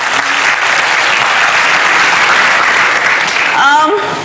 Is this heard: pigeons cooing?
no